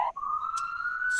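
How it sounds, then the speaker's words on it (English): A police siren on a New York City street holds a long, steady wail at moderate distance, with brief bursts of hiss at the start and end. "you can probably hear the sirens here in New York"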